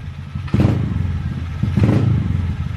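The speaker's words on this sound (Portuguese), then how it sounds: "Quanto tempo que a motinha não reage desse jeito" A small motorcycle engine with a freshly swapped carburetor revs hard twice, each blip rising sharply from a rough, clattering idle and settling back, close and loud.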